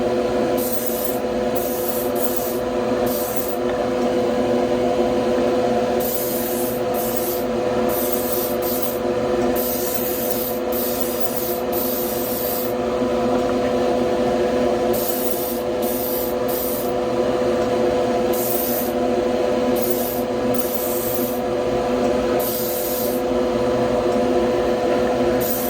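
A spray gun lays a light coat of paint on a 1970 Chevelle, with a close, continuous airy hiss that surges slightly for nearly half a minute.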